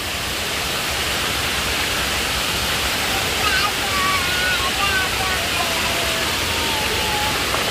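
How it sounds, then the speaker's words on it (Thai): Water swirling and rushing at Erawan waterfall in Thailand, a dense continuous roar close by, with faint whistle-like tones drifting through the middle. "น้ำวน"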